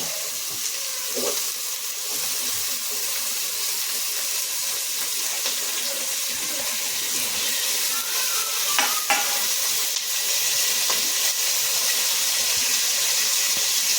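Tomatoes and onions fry in a pan for pudina bath, with a steady close sizzle throughout and occasional scraping clinks as a spoon stirs them.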